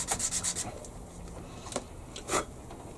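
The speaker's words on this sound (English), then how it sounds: "Just rolling it as I sand it." Hand sanding a part from a Trumpeter 1/16 scale Panther G model tank kit, heard as soft, close rasping strokes in quick bursts at the start, then quieter rubbing with a few sharper scrapes.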